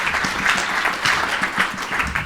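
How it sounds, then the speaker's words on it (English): An audience at a live-streamed celebration event applauds, a steady patter of many hands clapping at moderate distance, with no speech over it. "A round of applause for Joe."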